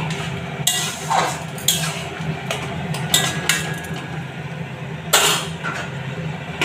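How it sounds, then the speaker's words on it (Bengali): A utensil stirs chickpeas into soft, cooked taro leaves in a pot, giving several scattered metallic clinks and scrapes against the pot over a low kitchen hum. "এর মধ্যে দিয়ে দেবো ছোলাটা দিয়ে একটু নেড়ে"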